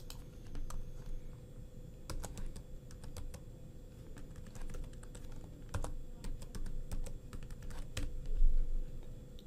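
Keys on a computer keyboard clack in quick irregular bursts as a new password is entered, close and fairly quiet with short pauses between runs of taps.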